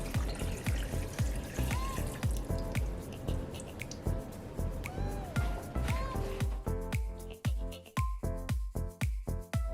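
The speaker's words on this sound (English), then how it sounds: "Add the wine to the fruits." Red wine is poured over mixed peel and fruits for a Jamaican Christmas fruit cake, making a continuous close run of splashy drips and trickles with light knocks.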